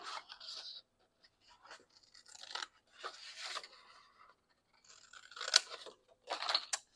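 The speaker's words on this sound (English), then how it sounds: "I love the stamps on here, so I'm gonna cut these out" Scissors cutting stamps out of paper scraps for an art journal: bursts of crisp snipping and crunching paper in short irregular runs, close and fairly quiet, with brief gaps of silence between them.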